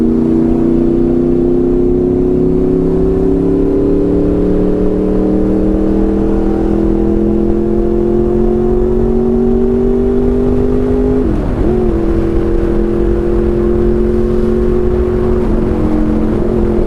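A steady Honda VFR800 motorcycle engine drones loudly and close while riding, its pitch rising gradually as it speeds up, with a brief dip partway through before climbing again.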